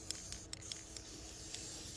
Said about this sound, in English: This is a wooden drinking box, and I will be spray painting this one also.